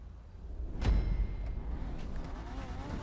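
Supra-like sports car engine in GTA V Online swells as the car passes close by, then settles into a lower engine drone that continues to the end.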